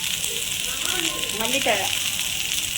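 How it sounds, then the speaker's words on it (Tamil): Spices and fresh mint are sautéed in a pan, giving a steady, close frying sizzle throughout with a faint voice briefly audible underneath. "புதினா எல்லாத்தையும் போட்டு நல்லா வதக்கிறோம்"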